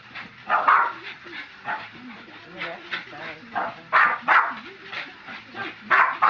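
Boston Terrier barking in repeated short bursts while chasing a bat indoors at night, yips and woofs scattered across the clip with a person talking between them.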